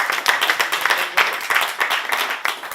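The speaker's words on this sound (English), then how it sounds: "So please give Ali a very warm round of applause" Warm round of applause from the audience at a Christchurch panel discussion on social media, greeting Papanui Innes Ward community board chair Ali Jones; dense, steady clapping from a small crowd, close and lively throughout.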